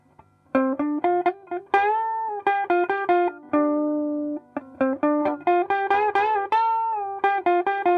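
An electric guitar plays quick picked notes and short phrases through an amplifier with a clean, bright tone, played alone.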